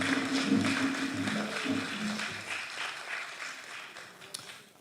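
A round of audience clapping at a football association awards event, fairly soft and steady, tapering slightly toward the end with a few sharper individual claps, while murmured voices and a low hum sit beneath.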